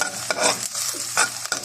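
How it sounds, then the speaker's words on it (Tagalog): Onions sauté in a hot pan, with a close sizzle and several quick stirring scrapes in a short uneven burst. "Papulain po lang natin ng ating sibuyas, guys."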